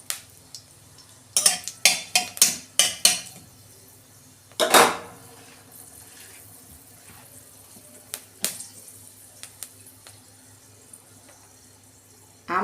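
Panch phoron spices hit hot oil in a wok with a series of sharp crackles and pops, a busy stretch followed by a stronger burst, then scattered spits fading into quieter sizzling.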